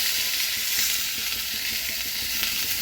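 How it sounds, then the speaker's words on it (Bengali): Chopped vegetables in hot oil in a home kitchen, sizzling as a loud, dense, steady hiss that fills the whole clip with no talking. "এবার একটুখানি তেল দিয়েছি, এই সবজিগুলো ঢেলে দিলাম।"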